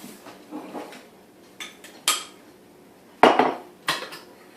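Rice being loaded into a retro rice cooker: scattered clinks and knocks of pot and lid, with two sharper clatters standing out among softer handling noises, close and alone with no talk.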